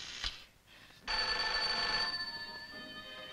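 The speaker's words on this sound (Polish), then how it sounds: "Telefon." An old-style telephone bell rings with a bright metallic trill that swells, sustains, then fades, heard close and without speech.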